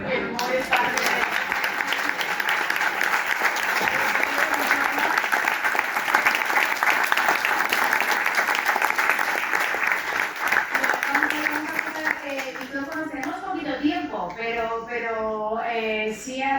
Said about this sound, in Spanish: yo creo que esto es un aplauso